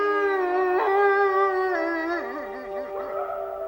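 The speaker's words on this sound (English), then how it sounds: "Is the cry of the wolf still heard as a mournful farewell?" A wild wolf gives one long, clear howl, sustained and close, its pitch rising, sliding and then wavering toward the end, with no other sounds.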